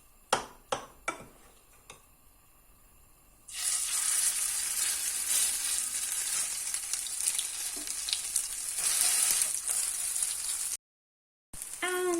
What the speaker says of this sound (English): I'm going to start frying the next batch.